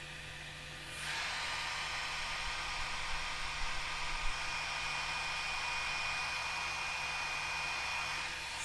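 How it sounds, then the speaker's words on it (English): A light-based hair removal device's fan whirs on after a second and runs as a steady, soft airy hum with a faint high whine. "This is the noise it makes. It's like a light fan noise."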